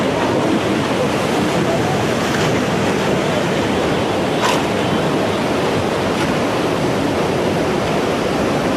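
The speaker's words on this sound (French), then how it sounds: "Voici quelques moments hallucinants de vagues géantes et de tsunamis qui ont été filmés par caméra" Giant tsunami waves surge in a continuous, loud roar of crashing water that stays broad and unbroken throughout, with a few faint higher splashes rising above it.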